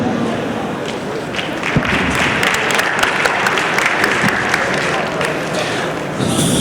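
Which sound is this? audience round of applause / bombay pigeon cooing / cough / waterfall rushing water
audience round of applause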